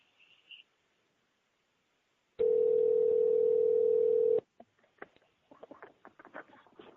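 Steady telephone dial tone on a phone line during a live call-in broadcast, holding for about two seconds on its own before cutting off into faint scattered crackles and clicks.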